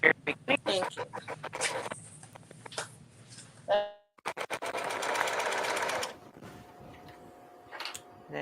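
A sewing machine sews a tote bag in close, loud bursts. Several short stitching runs come first, then a sustained run of rapid needle strokes, then quieter handling and a faint hum.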